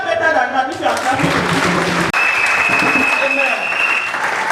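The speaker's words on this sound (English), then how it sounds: "You can clap better than that if you are clapping." A church congregation claps loudly and continuously, a dense wash of applause with voices rising underneath throughout.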